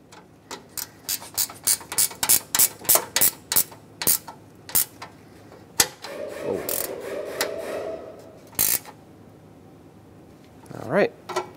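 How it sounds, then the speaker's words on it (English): A ratchet wrench tightens the bolts on an AC condenser of a 2007-2014 Chevrolet Silverado 2500 HD truck, with rapid, close, crisp clicking bursts in quick rhythm, then a pause, a scraping rub and a brief voice. "put a wrench on it, tighten them up"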